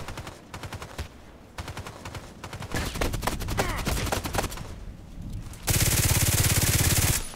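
Gunfire rings out in the video game Contract Wars, with rapid automatic bursts and scattered single shots building into a loud, sustained volley near the end, no talking.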